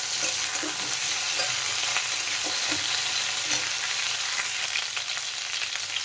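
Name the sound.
potatoes and cauliflower frying and stirred in pan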